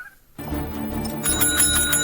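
A hand-slapped desk bell is struck repeatedly, bright ringing tones stacking up and growing louder after a short silent start, with no talk over it.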